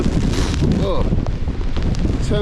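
Strong wind batters the microphone at a stormy Devon coastal wild-camping spot beside a VW T4 camper van, a loud continuous roaring rumble with gusty buffeting and no clear speech.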